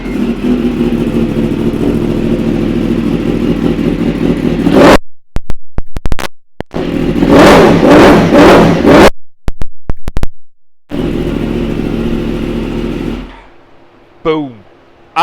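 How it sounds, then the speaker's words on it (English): Yamaha R1 BSB Rep motorcycle from 2015 with 12,915 miles, its engine loud and close, idling then revving in sharp bursts separated by brief drops, settling to a steady idle before cutting off near the end. "Give it a quick fire up, 'cause it sounds pretty naughty."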